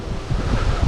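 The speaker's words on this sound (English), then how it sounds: "Very, very windy again at the moment." Strong wind buffeting the microphone, a loud rumbling roar with gusty bursts, close and continuous for under a second.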